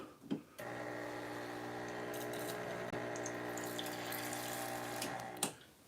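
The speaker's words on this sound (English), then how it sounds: "let's go and get some hot water going" Hot tap water runs in a steady, hissing stream into a sink for several seconds, starting and stopping abruptly, with faint clinks near the end.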